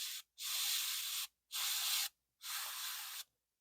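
An airbrush sprays paint to lay in skin tone shadows, giving three close, steady hissing bursts of about a second each separated by short silences.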